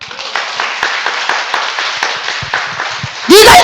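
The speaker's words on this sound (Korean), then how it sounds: "박수 안 쳐요?" A church congregation in Korea claps together in a loud, dense burst with a roughly rhythmic pulse, then a preacher's amplified voice cuts in sharply at the end.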